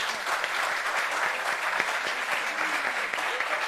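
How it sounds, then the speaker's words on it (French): An audience applauds for a pastor, a sustained spread of many hands clapping at moderate volume, with faint murmurs and a few sharper claps standing out. "le pasteur mérite qu'on applaudisse pour lui"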